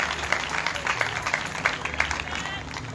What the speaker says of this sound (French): Est-ce que vous voulez applaudir mon Dieu plus fort toujours?